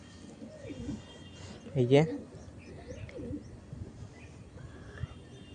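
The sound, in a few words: Fulsira pigeons cooing as a pair is released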